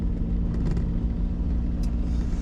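A car, used as a boat car, driving along a road in Bulgaria, with a steady low engine rumble and road noise from inside the vehicle, continuous and fairly loud.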